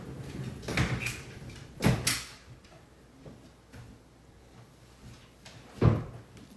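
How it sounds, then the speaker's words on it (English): A door opening to let a pet dog in indoors, giving a few separate knocks and thuds spread over several seconds, with a sharper bang near the middle and another toward the end, fairly close and not loud. "I'm just going to let my pooch in the door."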